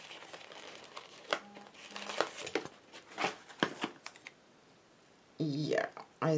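A decorative sticker is handled and applied to a magnetic-sheet bookmark, giving soft crinkling, peeling and small clicks up close, with a person talking over parts of it.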